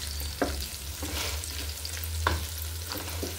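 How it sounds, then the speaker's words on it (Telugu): Onions, green chillies and biryani spices fry in ghee for a veg biryani, a steady close sizzle broken by a few sharp scrapes of stirring. "నెయ్యి వేసుకుని ఆనియన్స్, పచ్చిమిర్చి, బిర్యానీ దినుసులు అన్నీ వేసుకుని ఇలా గోల్డెన్ బ్రౌన్ కలర్ వచ్చే వరకు వేయించుకోవాలండి"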